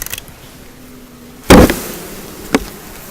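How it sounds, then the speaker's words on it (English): A package of bees is banged on a table: one heavy, close thump on a hard surface, then a lighter knock about a second later, with quiet background in between. "I'm going to firmly but gently bang it on the table"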